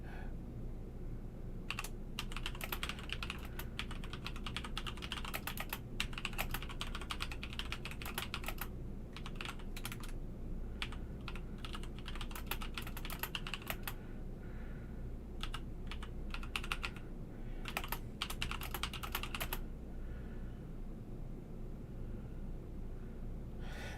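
Someone types on a computer keyboard in irregular bursts of quick key clicks separated by short pauses, over a low steady room rumble, with no talking.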